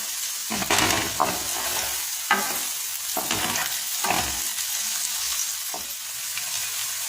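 Onion and capsicum sauté in hot oil for pav bhaji, a steady crackling sizzle broken by several scraping stirs of a spoon in the pan, close and fairly loud with no talking.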